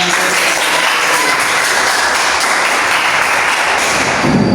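A sixth-grade classroom of pupils bursts into loud, continuous clapping for several seconds, a close, dense patter of many small hands with occasional thumps and no speech over it.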